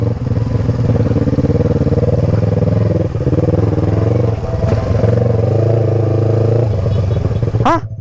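A motorcycle engine idles and chugs loudly and steadily on a forest trail, close by, with a brief rev and a rising whine near the end.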